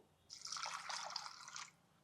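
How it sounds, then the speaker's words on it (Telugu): Water poured over soaked chana dal in a small pressure cooker makes a brief, close, bubbly gurgling stream lasting about a second and a half, quiet overall. "పప్పు కొంచెం మునిగేదాకా నీళ్ళు పోద్దాము"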